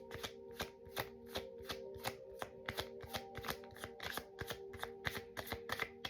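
Tarot cards are shuffled by hand in a quick, steady rhythm of soft riffling slaps, close and fairly quiet, with a faint steady hum underneath and no talk.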